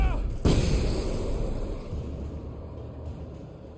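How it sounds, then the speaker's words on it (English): A flashbang grenade goes off in the video game Alan Wake Remastered, a sharp loud boom followed by a long fading rumble and a high ringing tone. "Flashbang going out."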